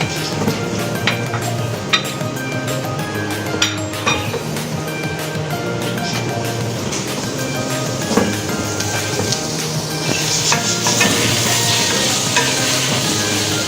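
Tomatoes are stirred into salmon sinigang with miso in a pot: a steady simmering hiss runs throughout, broken by scattered scraping clinks of the spoon against the pot. No voices.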